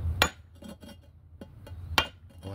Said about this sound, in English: now we're going to give you a bigger hammer.